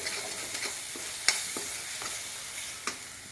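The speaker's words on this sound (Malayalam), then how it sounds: "ഉള്ളി ഒന്ന് വഴറ്റിയെടുക്കാം" Chopped onion and ginger sauté in a hot pan, a soft continuous sizzle punctuated by a series of spatula scrapes and light taps against the pan, with no talking.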